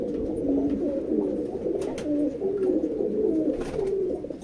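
Rampuri pigeons coo steadily inside a loft in Howrah, several birds overlapping in continuous low, throaty rolling calls that carry close and fairly loud throughout.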